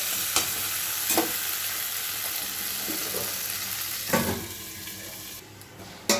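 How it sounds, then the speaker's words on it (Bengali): Stingray pieces rubbed with salt and turmeric fry in a pan with a continuous close sizzle. A few scraping stirs cut through the hiss at irregular intervals. "আস্তে আস্তে মাছটাও ভাজা হবে।"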